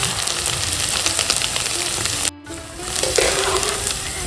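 Jhuri bhaja, thin strands of gram-flour batter, sizzling steadily in hot oil over a medium-low flame, with a brief drop in the crackle around midway as the strands are turned.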